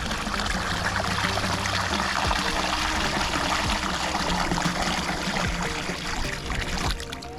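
Water poured steadily from a bucket into a pool in winter, a continuous close splashing trickle that runs unbroken for several seconds, with a brief change near the end.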